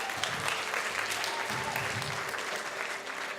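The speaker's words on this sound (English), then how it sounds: "Come on, ladies and gentlemen, big round of applause for Aaron as he comes up here tonight." Audience applause at a mindreader and magician's stage show as a volunteer comes up, continuous clapping with faint low voices and cheers mixed in, steady and moderately loud throughout.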